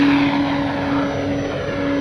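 An E-flite Carbon Z T-28 RC warbird airplane taking off, its electric motor and propeller giving a loud, steady, high whine close by, unbroken and with no talking.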